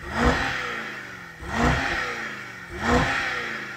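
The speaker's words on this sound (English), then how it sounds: "So I'm going to rev up this V8." A V8 engine in a Range Rover is revved three times in quick succession, each blip rising sharply then falling back to idle, loud and close with no talking.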